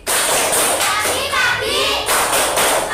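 Children clap their hands together during a cheerful classroom clapping chant, a dense, steady burst of claps with young voices mixed in throughout.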